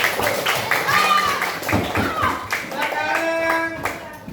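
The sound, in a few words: classroom applause for group 4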